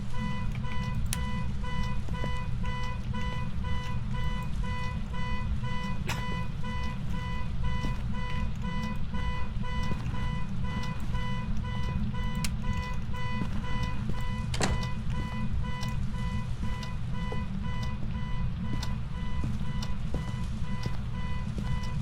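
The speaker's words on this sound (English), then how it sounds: "I don't know how to turn the darn car alarm off." Car alarm going off in a steady repeating electronic pattern that continues without pause, loud and constant throughout, with no talking.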